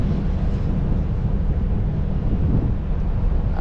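Steady wind buffets the microphone aboard a sea fishing boat off IJmuiden, a constant low rumbling roar with no pauses and no voices.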